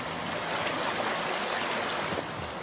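River water runs steadily beside a drinking-water reservoir near a pond in France, a continuous broadband rushing and trickling that stays close and even throughout, with no voices.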